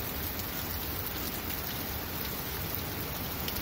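Heavy rain pours down during a thunderstorm, a steady, dense hiss of drops on surfaces that holds even and unbroken throughout, with no voices.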